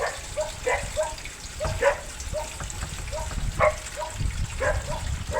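Liquid is poured out of an old car battery being restored, glugging and splashing in uneven bursts, a close, continuous gurgling stream.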